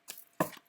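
A deck of tarot cards is cut by hand, giving two short, soft papery shuffling slaps a moment apart in a quiet room.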